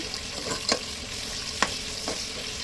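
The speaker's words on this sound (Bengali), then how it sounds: "আমি আবার সরিষার তেল দিয়ে দিলাম গরম মশলা দিয়ে দিলাম দিয়ে পেঁয়াজ কুচি দিয়ে দিলাম" Chopped onions with garam masala frying in mustard oil for a spicy broiler chicken khichuri, a steady low sizzle with a few sharp stirring scrapes, close and alone.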